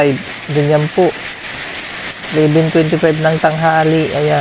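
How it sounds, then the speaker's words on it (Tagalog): Heavy rain mixed with hail and strong wind in the desert, a constant dense hissing roar beneath someone speaking steadily in the foreground. "Malakas yung ulan, malakas pa yung hangin, madami pang ice."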